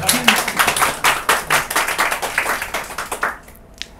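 Audience clapping at a Korean developer conference talk, a dense burst of handclaps from a room of listeners that swells briefly and then fades out after about three seconds, leaving near silence.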